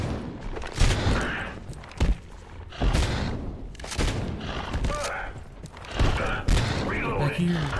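Gunfire in the Abiotic Factor video game, several separate loud shots and bursts spaced across the clip, mixed with other game sounds and movement.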